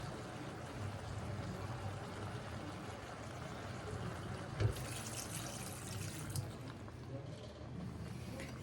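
Chicken broth pours into a pot of vegetable curry with tomatoes and garbanzo beans, a continuous close liquid splash and gurgle with a brief louder burst partway through.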